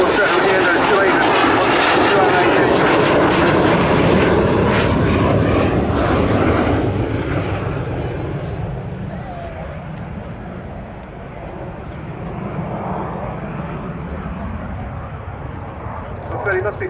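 A twin-engine jet aircraft at an air festival roars past in a display flyby, a loud broad engine rush that fades to a softer distant drone, with a commentator talking over it.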